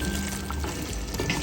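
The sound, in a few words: gravy boiling in pot for chicken biryani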